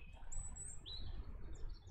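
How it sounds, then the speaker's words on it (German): A bird in the farming video game Kynseed chirps with a few high, thin whistled tweets over a low, steady ambient background, with no speech. "Hallo Vogel."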